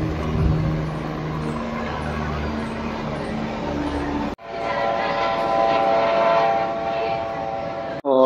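A train rumbles past nearby with a steady mechanical roar and tonal hum, briefly cut and resuming, no talking.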